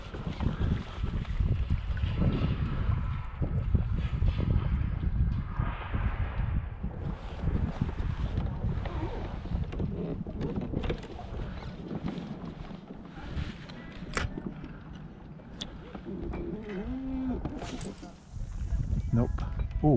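Gusty wind sweeps across open water during a morning fishing trip, a loud, steady low rumble that surges and eases throughout, with a voice speaking intermittently beneath it.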